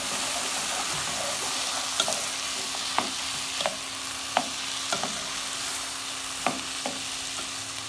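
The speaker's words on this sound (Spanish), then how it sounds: "Le vamos a agregar unas cucharadas de salsa de tomate y dejamos cocinar hasta que estén todos los vegetales" Vegetables with spoonfuls of tomato sauce cooking in a pan: a steady close sizzle with irregular utensil taps and stirring scrapes every second or so.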